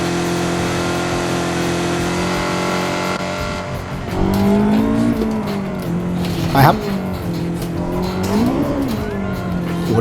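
A Honda City GM6 carrying a swapped K24 turbo engine runs in Assetto Corsa, its engine droning and rising and falling in pitch through revs and shifts, with tire squeal and someone talking over it.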